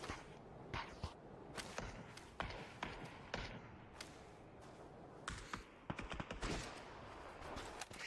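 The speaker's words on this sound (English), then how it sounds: "Shots being traded" Gunshots are traded in a video game league match: scattered sharp cracks and short bursts, some single shots and some rapid clusters, fairly faint and spread across the whole stretch.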